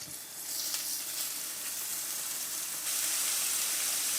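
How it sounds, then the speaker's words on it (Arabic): Sliced meat sizzling in hot olive oil and butter in a pan, a steady close hiss that grows slightly louder toward the end. "الزيت والزبده يسخنوا شويه، وهننزل اللحمه اللي قطعناها شرايح"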